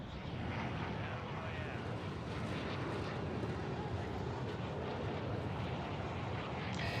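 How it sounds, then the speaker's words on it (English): Steady, loud airplane engine drone inside a battle royale video game flight before the drop, a dense continuous roar with no breaks, while someone talks faintly beneath it. "Man, that's a long plane flight."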